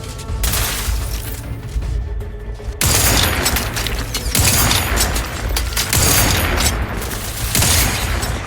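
Sustained heavy weapon fire from a wrist-mounted gun in The Outer Worlds 2, a loud dense barrage of blasts and booms that pauses briefly, then resumes in continuous bursts with mechanical clatter.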